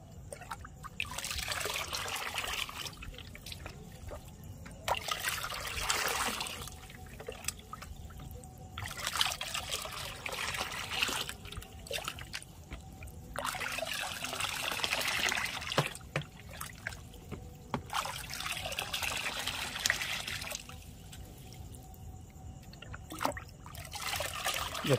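Fertilizer is stirred into water with a mug for a dragon fruit plant, with repeated bursts of trickling and pouring as water is scooped and let fall back, then short quieter gaps, close by and with no talk.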